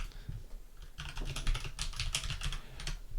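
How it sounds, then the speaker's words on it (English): Rapid keystrokes on a computer keyboard, a steady run of close, crisp clicks starting after a brief pause, with no talking. "we can kind of confirm this by just like kind of typing it into Google"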